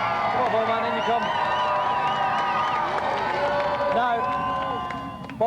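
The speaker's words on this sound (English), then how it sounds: "Round of applause, please, for our undefeated champion, Golden Bomberman!" A studio audience at a TV games show cheers, whoops and claps for the champion Golden Bomberman, a dense sustained crowd roar with shouted voices throughout, fading slightly at the end.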